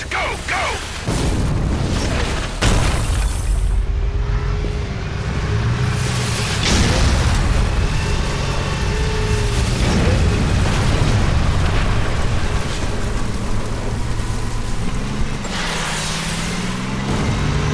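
Missile explosions in the video game Killzone Mercenary, heavy booming blasts and rumbling impacts layered over a continuous loud battle din with sweeping engine-like tones, while voices call out.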